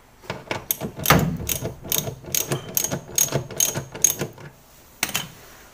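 Ratcheting clicks from a tool loosening the tension adjuster underneath a Whirlpool automatic washing machine that spins weakly, in quick close bursts of metallic pawl clicks with short pauses and a final burst after a gap.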